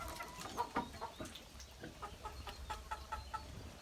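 Wet chickens, including a Leghorn and a Minorca hen, clucking softly in a series of short, scattered calls after rain, fairly close by, with no talking.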